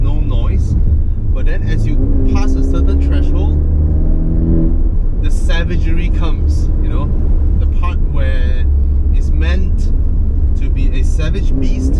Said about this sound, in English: when you press on the throttle very lightly, it makes almost no noise, but then as you pass a certain threshold, the savagery comes.